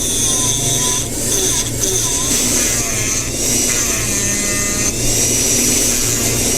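Dremel rotary tool cutting material, a steady high-pitched whine running continuously with slight shifts in pitch as it bites in, close and loud.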